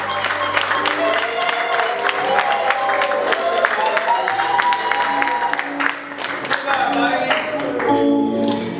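Wedding guests applauding in a hall during a Congolese religious wedding ceremony, dense, loud clapping that holds steady for several seconds, mixed with voices and musical tones in the background.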